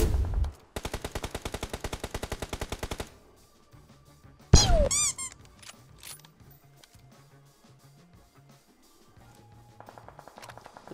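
Automatic gunfire in a tournament-style shooter video game rattles off in a long rapid burst, then a sharp blast and scattered softer game sounds, ending with another short rapid burst; no voices.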